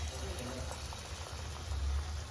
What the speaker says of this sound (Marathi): आणि एक एक बुडवून असं तेलामध्ये सोडायचं आहे